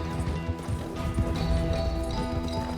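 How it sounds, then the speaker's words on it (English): Horses galloping across open plains in the Red Dead Online video game, a loud, continuous rush of pounding hooves with rumbling game ambience, heard without talk. "their horses thundering across the plains with relentless speed"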